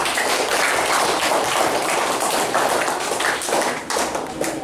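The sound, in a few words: applause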